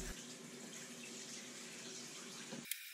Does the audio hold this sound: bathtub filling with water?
yes